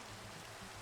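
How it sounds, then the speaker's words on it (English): Steady rain in a Minecraft world, an even, soft hiss of falling water, faint and continuous with no voices. "It's raining."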